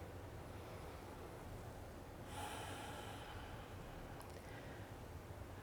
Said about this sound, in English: Just take some nice cleansing breaths here.